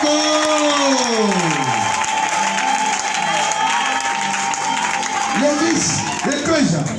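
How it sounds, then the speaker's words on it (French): A church congregation claps for the Lord during a Sunday worship service, steady applause filling the room over sustained voices and musical tones, with a person speaking near the end. "Applaudissons pour le Seigneur."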